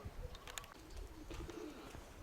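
Pigeons cooing softly outdoors after being tossed into the air and settling on wires, with faint scattered bird calls in a quiet, distant setting.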